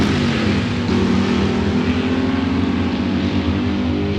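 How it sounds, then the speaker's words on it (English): 426 Hemi-powered nostalgia super stock drag car at a dragway, a loud, close, sustained engine roar with rising revs as it runs down the strip. "Running against Jim Hagenhoff, 426 Hemi powered American muscle machine"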